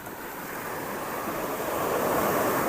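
Sea waves roll in steadily on an eroding beach at Lede village, a continuous broad rushing surf that swells slightly louder, mixed with wind buffeting the microphone.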